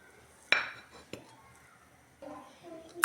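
Chicken pieces mixed with salt, black pepper and turmeric in a bowl, with a few sharp metallic clinks and scrapes of a utensil and softer squelchy stirring between them, close and sparse.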